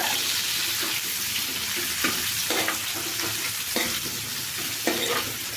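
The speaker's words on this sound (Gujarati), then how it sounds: "તો હવે આપણે છે આને આ રીતના તેલમાં એક વખત આ રીતના ફેરવી લેવાનો છે" Stuffed okra frying in oil on an iron griddle, a steady close sizzle with repeated scraping and stirring strokes as the pieces are turned, no voices.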